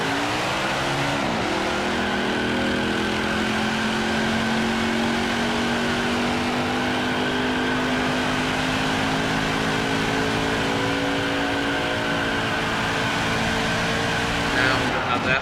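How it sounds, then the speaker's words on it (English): A NASCAR Cup Series Toyota in the NASCAR 21 Ignition racing game does a burnout at Sonoma, its engine holding a loud, steady high drone with tire noise throughout, ending in a brief change near the end. "After this burnout, we will have the NASCAR Cup Series Toyota Sabre 350 from Sonoma on NASCAR 21 Ignition."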